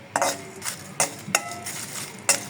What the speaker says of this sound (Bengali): জিরাটা দিয়েও ভালো মতো একটু টেলে নেব